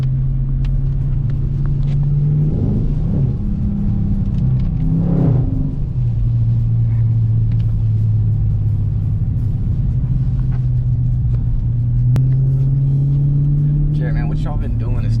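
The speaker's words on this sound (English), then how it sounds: "I'm over here driving my car in circles in the rain." Car doing donuts in circles in the rain, a loud, steady engine rumble with a few revving swells and drifting pitch, close throughout, with people talking over it at times.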